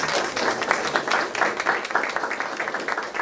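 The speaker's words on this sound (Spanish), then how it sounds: "Un aplauso para el doctor Diego López" Applause for a doctor at a public health centre event, a dense, steady crowd clapping that stays loud and continuous throughout.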